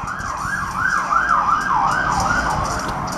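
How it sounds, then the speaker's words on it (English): A wailing emergency siren, ambulance or police car style, from the video game Pokemon Ultra Sun, rising and falling steadily and loudly over a low rumbling background throughout. "I'm not sure what ambulance or police car, like, just why you just turn the siren down a little bit."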